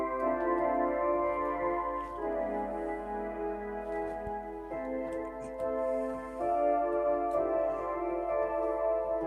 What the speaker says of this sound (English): an 8-foot oboe, 8-foot flute, and a 16-foot flute, which should sound like this